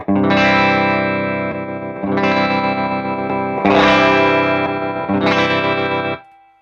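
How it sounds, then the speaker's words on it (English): An electric guitar runs through a distorted rig with a tremolo pedal switched on, four sustained strummed chords ringing out in turn with a slight pulsing swell before the last one cuts off. "one problem that I find with tremolo pedals is quite often they do have a volume drop"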